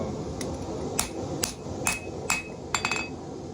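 Light hammer blows on a forged Bowie knife blade during planishing: six sharp metallic strikes at a steady, unhurried pace over a constant roaring forge background, close and unaccompanied by talk.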